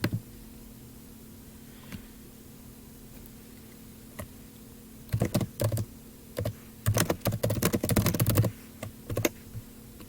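Computer keyboard typing a chat question: scattered single key taps, then a fast burst of clicking keystrokes near the end, close and crisp over a quiet room hum.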